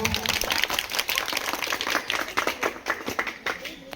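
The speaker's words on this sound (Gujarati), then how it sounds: "આપણે ટીમને જોરદાર તાળીથી વધાવીશું." Primary school students clap for a quiz team in a classroom contest, sharp, rapid, uneven claps from a group that sound close and lively and trail off toward the end, with no speech.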